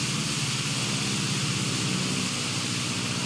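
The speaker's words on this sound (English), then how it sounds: "Airplane flying over. I can hear it, but I can't see it." An airplane passes overhead out of sight near a railway station, a steady broad engine drone that holds at a constant moderate level throughout with no voices heard.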